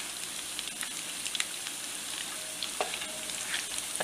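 Southern-style potato patties sizzle steadily in a hot pan with the heat turned up near the end to brown them, a continuous close crackling hiss with small pops scattered throughout and no talking.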